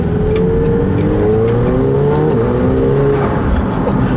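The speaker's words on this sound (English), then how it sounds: "Downshifts are nice and quick here." A 2018 McLaren 720S sports car engine drones loud and close, its pitch stepping through quick downshifts and then rising steadily under acceleration, heard from inside the cabin with no talking.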